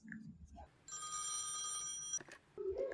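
A telephone bell rings once in a bright, sustained burst, with brief muffled sounds and a voice around it.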